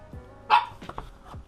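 Dogs bark close by in a single loud burst, followed by a few quieter yips and barks, with no talk over them.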